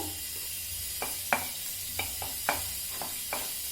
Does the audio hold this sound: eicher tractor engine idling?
no